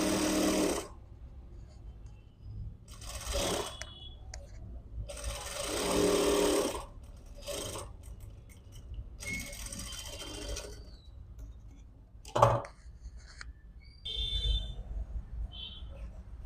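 A sewing machine stitches a princess-cut back-open blouse in short, repeated bursts of mechanical whirring and clatter, separated by quiet pauses, with a sharp click midway.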